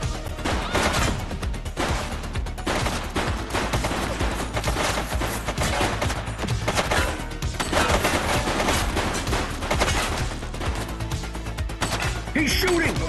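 Gunfire rings out in a police video game on PC, with bursts of rapid shots and sharp impacts spread across the scene, loud and dense, with shouted voices mixed in.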